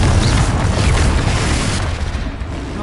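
A Confringo blasting spell explodes in Hogwarts Legacy, a loud, rumbling boom that fills the scene and slowly fades amid game combat noise.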